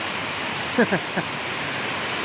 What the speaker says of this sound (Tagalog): Lalakas ang ulan.